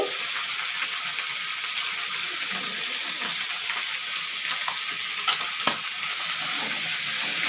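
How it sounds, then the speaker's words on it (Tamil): Vegetables sautéing with salt in a pan give a steady, bright sizzle throughout, with a few sharp scrapes and clinks of stirring near the middle and no talking. "ரெண்டு வதக்கு வதக்கிக்கலாம்"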